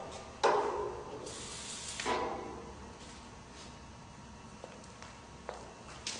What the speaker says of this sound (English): spray white lithium grease on all the areas where the nylon rub blocks would ride